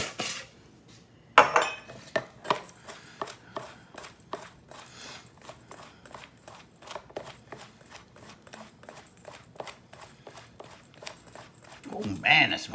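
A spice rub of cracked black pepper is mixed in a bowl for baby back ribs, with rapid rhythmic clinks and scrapes of a utensil against the bowl under occasional talk.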